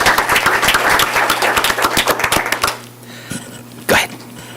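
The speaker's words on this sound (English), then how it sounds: "Let's give her a round of applause" A round of applause for a fifth-grade student at a school district board meeting, several seconds of fairly close clapping from a modest crowd that quickly fades, followed by a couple of isolated claps or knocks in quiet.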